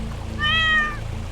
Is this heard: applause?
no